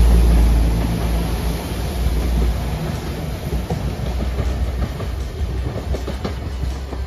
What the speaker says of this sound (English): So here comes the 10:33 going to Birmingham New Street via University